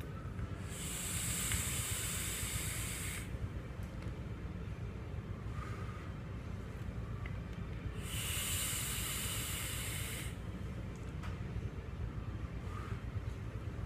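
Two long hissing draws on a Freak Mini PV3 vape with a 0.32-ohm coil at 60 watts, each lasting a few seconds and set apart by a pause, close and steady over a low background rumble.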